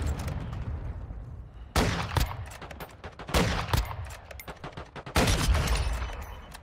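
Repeated loud bursts of gunfire in Warzone Mobile, fired in several clusters of sharp close shots separated by brief quieter gaps.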